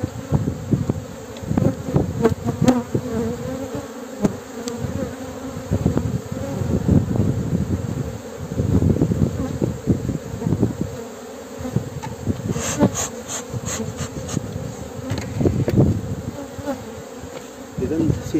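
Honeybees swarm around an opened beehive during an inspection late in March, a dense, steady close-up buzzing drone with some handling sounds and no speech.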